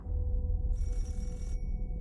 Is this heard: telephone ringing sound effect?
yes